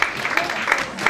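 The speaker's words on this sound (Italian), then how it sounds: "un applauso a Jessica" Short burst of audience applause at a cartoon cover band gathering in Italy, steady and moderately loud, with a voice faintly present under the clapping.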